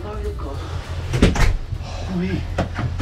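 A heavy door is hauled open with a couple of loud wooden knocks and thuds in the middle, while a person talks nearby before and after.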